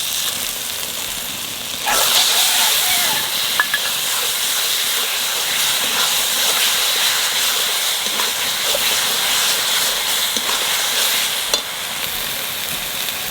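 Green chili paste hitting a hot pan of mutton curry base with garlic paste, a loud steady sizzle and hiss that jumps in intensity as it goes in, with occasional stirring clinks.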